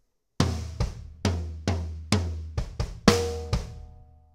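Booming drum hits, mostly low toms and kick, strike in a short syncopated pattern with decaying resonance, played alone with a cymbal-like ring near the end.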